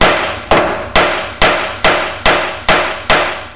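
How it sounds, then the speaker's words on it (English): Hammer striking a rivet on a 1996 Ford F150 rear spring hanger during a lowering kit install, eight sharp metallic blows at a steady, even rhythm, loud and close with short ringing decay, no talk. "Take your hammer and go ahead and hit it"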